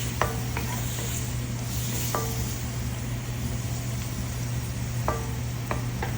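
Shrimp with turmeric and chili powder frying in a pan, a steady close sizzle with a low hum underneath and a few sharp utensil clicks against the pan.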